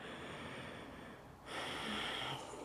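Slow, deep breaths during a yoga side stretch, a long soft inhale followed by a fuller exhale, close and quiet with no talking.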